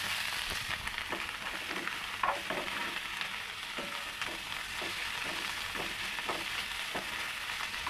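Vegetables fry in a pan with a steady close sizzle while a spoon stirs them in repeated scraping strokes, with no one speaking.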